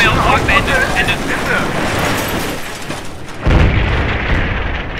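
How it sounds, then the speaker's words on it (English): Artillery shells level buildings in Combat Mission Shock Force, a steady heavy rumble of distant booms and wind-like roar, with a deeper thud near the end. "we see my artillery leveling those buildings"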